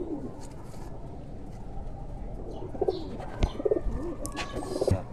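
An old Kuwaiti teddy pigeon coos in short, soft bursts close by over a low background hum, with a few sharp clicks between the calls.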